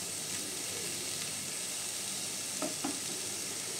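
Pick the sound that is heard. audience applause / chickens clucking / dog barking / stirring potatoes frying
stirring potatoes frying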